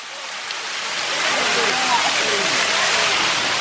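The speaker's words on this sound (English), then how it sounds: "Are you taking a shower?" Shower water runs in a steady, loud rushing hiss that swells slightly and continues without a break.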